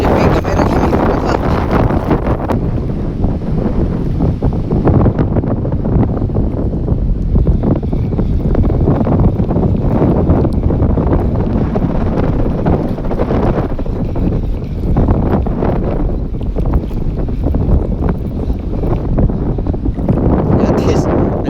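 Strong wind roars over a fishing boat at sea, a constant loud buffeting rush with waves beneath and no clear pauses.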